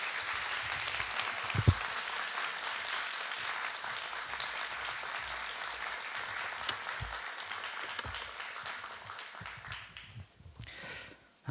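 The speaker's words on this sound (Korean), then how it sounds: "우리 나오실 때 여러분 환영하는 만큼 큰 박수로 환영해 주시기 바랍니다" A church congregation at a Sunday worship service applauds steadily to welcome a guest pastor, a dense, sustained wash of clapping from many hands that thins and fades toward the end.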